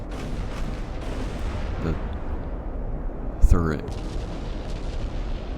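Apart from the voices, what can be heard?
8-inch naval guns firing in video game Ultimate Admiral: Dreadnoughts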